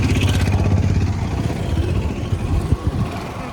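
A motorbike carrying two riders heading off, its engine rumbling steadily with a few revs and rattles near the end, wind and road noise close by.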